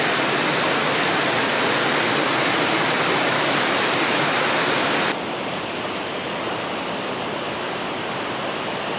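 Steady waterfall roar, loud and broadband, with the rushing water continuing unbroken throughout; partway through the sound abruptly turns duller and slightly quieter as if the top end were cut.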